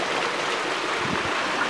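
The Chota river flowing near Otuzco, a steady broadband rush of running water that is close and fairly loud, continuous without breaks and with no talking.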